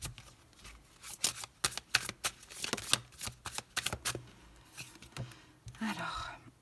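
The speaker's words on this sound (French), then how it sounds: "On va poser les 6 cartes." Tarot cards are handled and laid out, close, crisp snaps and slides in irregular bursts with a faint whispery voice underneath.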